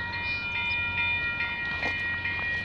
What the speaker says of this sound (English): Okay, we got a CP train.